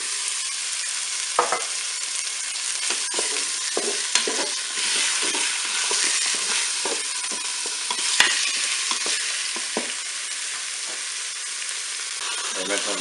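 Chopped onions sizzle steadily in a Cookeo multicooker, a broad continuous hiss with intermittent scraping stirs and clicks throughout, close and fairly loud, with no talking.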